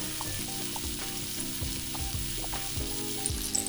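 Salmon and potatoes sizzle steadily in a frying pan, a close, even crackle of frying with faint stirring clicks and no talking.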